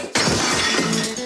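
A porcelain toilet is smashed to pieces during a demolition, a sudden loud shattering crash followed by a dense spill of breaking ceramic shards rattling and tumbling close by.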